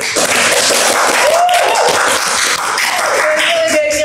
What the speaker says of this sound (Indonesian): Keren banget, tepuk tangan dulu guys!